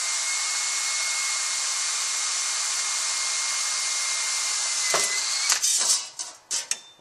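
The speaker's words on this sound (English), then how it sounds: "I'm going to get a small drill bit" Small drill bit drilling during a shift kit installation on a Mitsubishi DSM, running as a steady high whir for several seconds, then broken short bursts and clicks as the drilling stops and starts.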